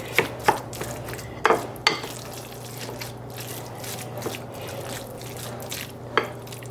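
A wooden spoon mashes meat in a pan for a stuffed-pepper filling, giving a few sharp, close knocks and scrapes at irregular intervals over a quiet background hum.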